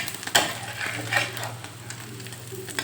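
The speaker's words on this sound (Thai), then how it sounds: "ไข่เจียวร้อน ๆตักใส่นี่นะคะ ให้มันหอมๆให้มัน แห้งน้ำมันเนาะไข่เจียวเนี่ย" A hot fried Thai omelette is scooped out of cooking oil, with soft sizzling, scraping and clicking of a utensil against the pan, close and fairly quiet with no talking.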